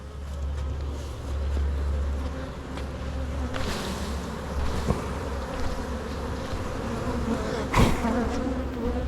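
A dense, continuous buzz of many honey bees fills the air close by during a hive inspection, with occasional clicks and bumps of handling hive frames over it.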